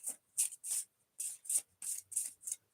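A deck of cards being shuffled by hand gives about eight short, crisp riffling bursts in quick uneven succession with brief silent gaps between them, close and fairly quiet, alone without talk.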